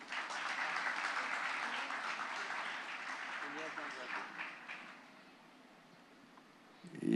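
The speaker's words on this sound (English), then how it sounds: "Can we have a round of applause for them?" An audience at a summit claps steadily for about five seconds, then the applause fades out, leaving a quiet room before a brief noise at the end.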